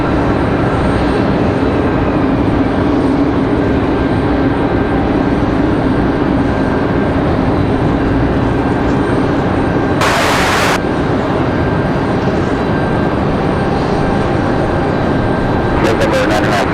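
A Breeze Airways Airbus A220 jet departing from Raleigh-Durham airport, a steady broad engine roar that holds loud throughout, with a brief hiss burst partway and talk mixed in.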